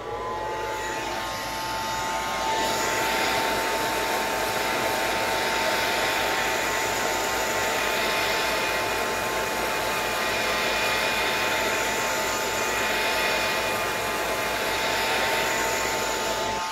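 A handheld hair dryer blows a steady, loud, continuous whoosh with a faint whine, drying black paint through a stencil on a mixed-media notebook made from a dollar-store placemat, running unbroken from start to finish.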